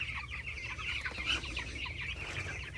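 Chickens cluck and murmur in a village poultry farm shed, a soft, continuous chorus of overlapping birds heard close at moderate volume.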